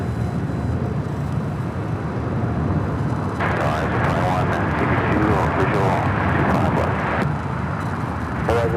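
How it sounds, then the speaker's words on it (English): A FedEx plane takes off at Los Angeles International Airport, bound for San Diego, with a steady broad jet roar that swells midway and holds. Voices talk over the engine noise throughout. "All right, we've got the FedEx flight heading to San Diego."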